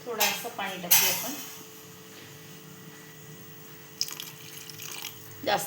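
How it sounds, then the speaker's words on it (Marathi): Water pours into a pot of fish curry with a brief splashing rush near the start, then settles into a quiet trickle and small drips, close by, with a few clinks at the end. "थोडंसं पाणी टाकूया आपण."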